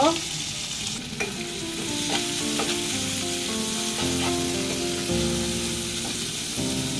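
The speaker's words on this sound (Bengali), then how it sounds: "পেঁয়াজটা গোল্ডেন না হওয়া পর্যন্ত আমি এটাকে ভেজে নিব।" Onions frying in hot oil until golden while being stirred, a steady close sizzle with occasional spoon scrapes and stirring knocks throughout.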